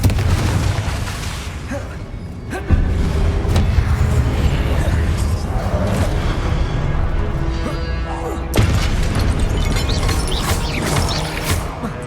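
The Confringo blasting spell explodes in Hogwarts Legacy: two loud, booming blasts ring out several seconds apart over a constant rumble of game sound and effects.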